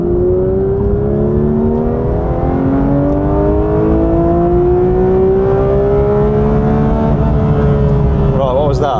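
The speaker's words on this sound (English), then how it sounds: "I'm going to floor it now." A Ford Focus ST in third gear is floored from 40 to 90, its engine note rising steadily and loudly for the whole run, heard from inside the cabin with tyre and road roar underneath.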